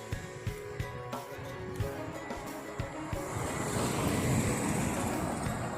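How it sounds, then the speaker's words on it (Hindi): A car speeds past on a road in Islamabad, a rising whoosh of tyres and engine over steady traffic noise that swells toward the end, heard close by with no talk. "ये गाड़ी मेरे पास से फराटे भरती हुई गुजरी है।"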